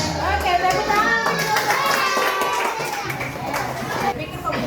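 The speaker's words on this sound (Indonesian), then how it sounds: "tepuk tangan" A classroom of children claps hands in scattered, uneven bursts, with lively chatter and young voices mixed through the clapping.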